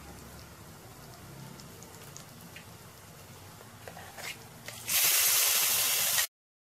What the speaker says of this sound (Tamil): இப்போ இதை நல்லா வணக்கி விட்டுக்கோங்க